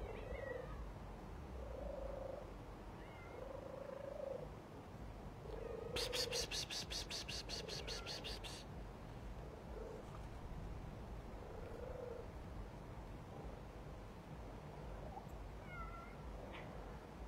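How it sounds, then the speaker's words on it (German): Several cats, one freshly spayed, meow in short, repeated calls over a low, steady purring rumble, with a brief buzzing rattle partway through. "die frisch kastrierte Katze"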